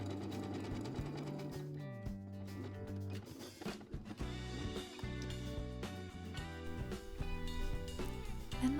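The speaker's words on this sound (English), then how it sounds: "Now we make a second zigzag stitch on the edge of the elastic" A sewing machine runs a zigzag stitch along the edge of elastic for a homemade bralette, in quick stop-start bursts of rapid mechanical whirring and needle clatter at close range, fairly quiet.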